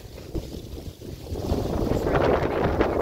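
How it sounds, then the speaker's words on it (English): Loud, rumbling wind buffeting the microphone, building in strength over a few seconds with no speech. "It's also really windy, so I apologize for the wind noise."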